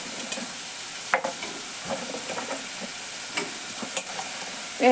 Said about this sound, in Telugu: ఉల్లిపాయలు మగ్గిపోయాయి మగ్గింది కదా ఉల్లిపాయ ఇగో మన చిక్కుడుకాయలు వేసేస్తున్నాం